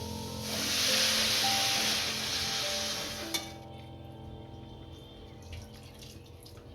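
Water is poured into a pan of cooking radish greens, a loud close rushing splash lasting about three seconds that cuts off into a quieter simmering hiss.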